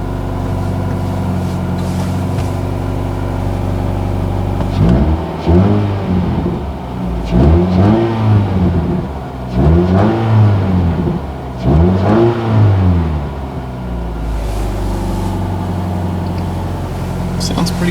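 A B16-engined Nissan Sentra rallycross car with race torque mount inserts, heard from inside the cabin, idles with a steady drone, then revs sharply four times in quick succession before settling back to idle.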